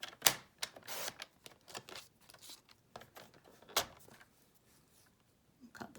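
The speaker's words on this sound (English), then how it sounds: "So I'm just going to put them in the trimmer." A paper trimmer slices through pieces of card in a quiet crafting session, giving sharp, scattered snips and slides with soft handling noises and pauses between cuts.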